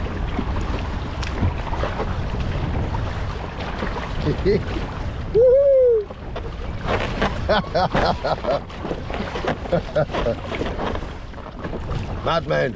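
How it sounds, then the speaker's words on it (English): Water sloshes and splashes steadily against a small inflatable kayak on Lake Windermere, with wind buffeting the microphone and a brief voice-like call midway. "Here we go into the waves."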